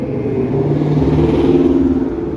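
A Dodge Charger Hellcat engine rumbles and revs loudly up close, a steady deep growl rising slightly in pitch over a couple of seconds.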